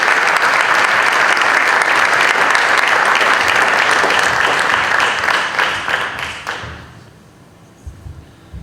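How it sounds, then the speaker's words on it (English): Loud, dense applause comes from the audience at a school Board of Education meeting as a student walks up. It is strong and sustained for about six seconds, then thins out and fades to near silence. "let's have an equally thunderous loud applause for Nguyen as he makes his way up here"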